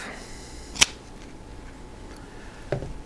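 Scissors cut fabric garden ties in half, giving two sharp, separate snips about two seconds apart against a quiet background.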